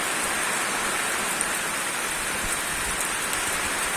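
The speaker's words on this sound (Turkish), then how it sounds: "bu yağmurun yağdığına gerçekten çok sevindi." Steady rain falls outdoors on an overcast, foggy day, a continuous close hiss of drops on surfaces with no voices.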